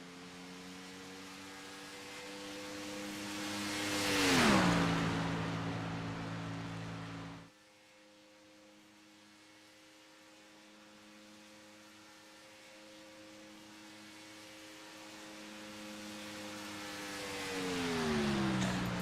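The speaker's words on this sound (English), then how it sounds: "We'll listen to the sound of the cars." Race car engines in a sim racing game on a banked oval, a droning multi-car engine note that swells as cars pass close, drops off sharply, then builds again as the pack returns, steady and mid-level with no talk.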